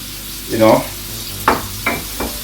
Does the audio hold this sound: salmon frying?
yes